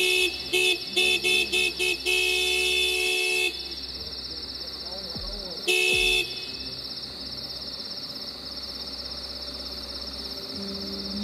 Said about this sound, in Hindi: देर रात को गाड़ी का हॉर्न बजा